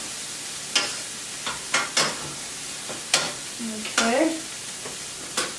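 Onions and garlic frying together in a pan while being stirred for meat turnovers, a loud crackling sizzle with repeated scraping knocks of a utensil and a brief spoken word.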